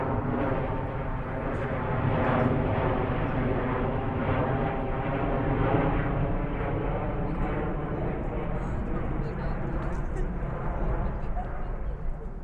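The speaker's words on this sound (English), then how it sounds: "And there goes another plane." Airplane flying overhead above a park arboretum garden, a loud steady broadband engine roar that fills the whole stretch, with faint talk underneath.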